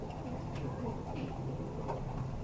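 Thud-breed pigeons coo in a low, continuous murmur that holds steady throughout, close and moderately loud, with soft overlapping calls and no clear breaks.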